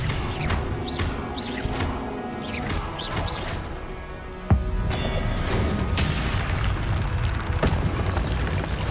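Hogwarts Legacy's Depulso spell rings out with a crashing, booming impact over a dense bed of game effects and ambience, with a sharp hit near the middle and a steady busy roar throughout.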